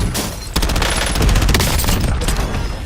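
Call of Duty Warzone gameplay with heavy gunfire: a loud, dense burst of rapid shots that runs nearly unbroken for the whole stretch, close and intense.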